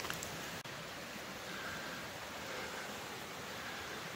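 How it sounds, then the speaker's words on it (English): A swollen river after a dry summer rushes steadily nearby, a continuous broadband wash with no gaps, heard alone in the open air at a camping spot. "It's actually a flowing river."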